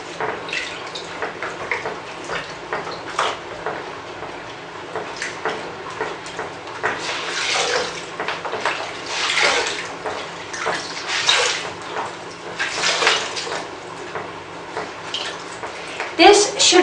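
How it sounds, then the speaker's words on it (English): A towel soaked in cold water is wrung out, giving trickling, dripping water sounds in uneven bursts, fairly close, with a person speaking over it. "take an extra towel with cold water and then squeeze it and put it in the neck area"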